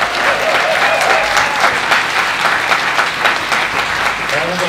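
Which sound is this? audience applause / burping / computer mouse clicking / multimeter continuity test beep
audience applause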